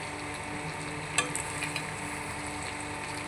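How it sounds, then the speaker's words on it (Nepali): Local goat meat deep-frying with onions in a pan gives a steady sizzle throughout, with a few brief scraping stir clicks in the middle. "प्याज हालेर फेरि पनि डिप फ्राई गर्दैछु"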